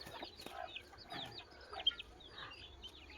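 Chickens cluck softly and intermittently nearby while being fed fish waste, with a faint backdrop behind them.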